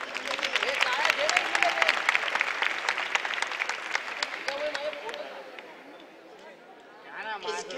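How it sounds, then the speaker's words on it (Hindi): Children break into loud, sustained applause at a birthday celebration held with kids of a cancer patients aid association, the clapping dense and crowd-wide before fading, with a voice speaking briefly at the end. "अब जोर से तालियां बजाएं।"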